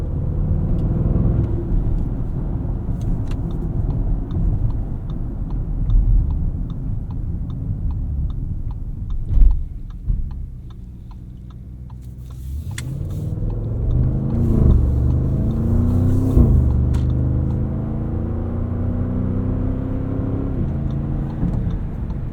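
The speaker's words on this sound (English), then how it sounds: "I could listen to this V8 bellow away all day long" A 2024 Audi SQ8's V8 engine bellows steadily with a deep, continuous drone, dipping briefly midway before surging again as the SUV accelerates, with no voices over it.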